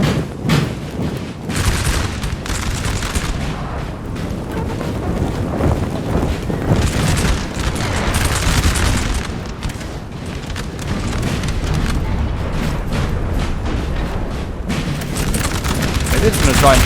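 Musket volleys and artillery fire, including canister and round shot, in the Napoleon Total War battle between Napoleon's French army and the Holy Roman Empire, a dense continuous rumble of booms and crackling shots, with voices talking over it.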